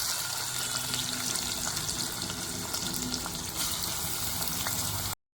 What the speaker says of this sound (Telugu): ఆయిల్ వేడెక్కిన తర్వాత మనం కట్ చేసి పెట్టుకున్న ఆనియన్స్ అన్నిటిని వేసేసుకోవాలండి